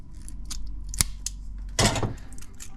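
Close, crisp snips of shears cutting a metal welding patch for a Holden Torana repair, a few sharp individual cuts followed by a longer crunching cut.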